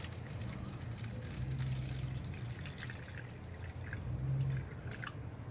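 Water is poured into the bottom reservoir of a small tomato seed starter container, a soft continuous trickling and splashing heard close and quiet.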